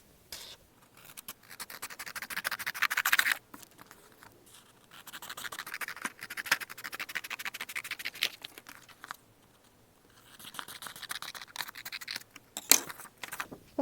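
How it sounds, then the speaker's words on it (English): Scissors cutting paper for a handmade Eid card: crisp repeated snipping and scraping in several bursts separated by short pauses, close and fairly quiet. "Now, I am going to cut these two papers with this scissor."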